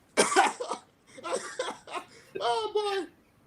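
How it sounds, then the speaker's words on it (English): A man on a podcast clears his throat with a few rough, raspy bursts, followed by short chuckling sounds, close and fairly loud with pauses in between. "I'll let you clear your throat."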